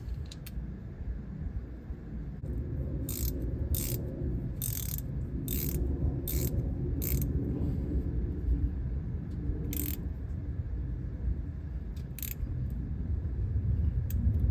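Hand ratchet with a 10 mm socket turning the transmission pan bolts on a GMC or Chevy truck, rapid rhythmic clicking in repeated bursts over a steady low background rumble, close and fairly loud.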